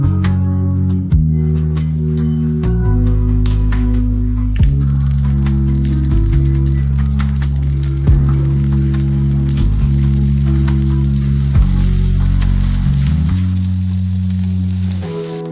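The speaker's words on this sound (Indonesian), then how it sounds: "Lalu bumbu dari bawang merah, bawang putih, cabai merah, dan tomat dihaluskan dan ditumis." A ground paste of shallot, garlic, red chili and tomato sautés in a pan, a steady loud sizzle running continuously with low tonal hum underneath and no talking.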